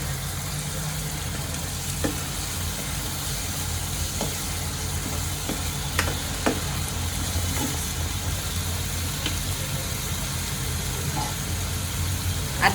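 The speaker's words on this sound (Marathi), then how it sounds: "तळून घेते मसाल्यांना मसाल्यांचा काही कच्चपणा राहायला नाही पाहिजे" Spices (masala) frying in oil in a pan for a Khandeshi curry give a steady, even sizzle throughout, with a few faint clicks and taps of stirring, and no talk.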